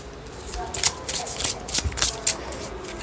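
Tarot-size cards are shuffled in a quick run of riffling bursts, close and crisp, over a soft steady background hiss.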